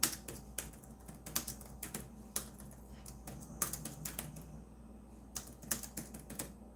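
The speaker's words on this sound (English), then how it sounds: "Let me actually type this in here." Typing on a computer keyboard, a quiet, close run of quick irregular key clicks in short bursts with brief pauses and no talking.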